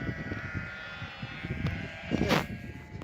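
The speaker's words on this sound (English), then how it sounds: "So if you can hear us over the sheep noise, our travels begin." Sheep bleat repeatedly in an open field where farmers are sorting the flock, with several calls from different animals close by and a louder bleat near the end over a steady outdoor background.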